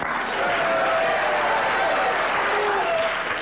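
Studio audience applause on a 1979 television talk show: dense, even clapping from a large crowd that sustains at full strength from start to finish.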